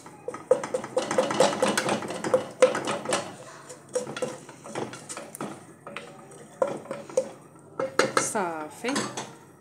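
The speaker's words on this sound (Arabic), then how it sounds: "صافي نحركو مزيان تمزجوا لينا المكونات" A spoon stirs soup ingredients in a metal pot, making repeated clinks and scrapes against the pot in irregular bursts. The sound is close and clear, with short pauses between the stirring strokes and no talk.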